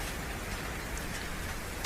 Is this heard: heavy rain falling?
yes